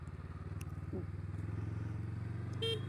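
A Honda CMX500 Rebel motorcycle gives one short beep of its horn near the end, over the steady rumble of its running engine.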